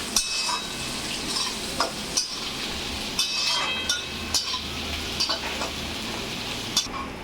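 Onions frying in a pan until golden brown, a steady sizzle with periodic scraping stirs and light clinks of a spoon against the pan, close and alone without any talk.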